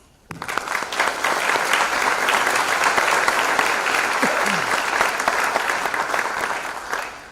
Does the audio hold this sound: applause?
yes